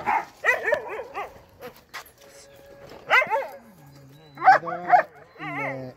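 A ten-month-old dog barks and yips in short bursts, several sharp barks in clusters with brief whimpering in between, fairly close by.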